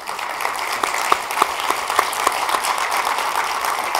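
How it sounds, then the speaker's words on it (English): A crowd claps continuously, dense and steady, with a few sharper claps standing out near the front. "a special round of applause for our guests, Robert Stone, Barbara Rosen, and Barry Rose"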